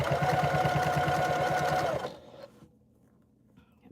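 A sewing machine runs steadily for about two seconds, stitching bias binding onto a tote bag, then stops, leaving a quiet room with faint handling noise.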